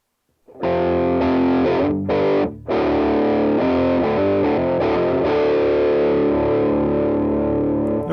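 A heavily distorted electric guitar chord from ToneLib GFX amp software rings out loudly, briefly choked twice, then sustains with a thick, saturated tone.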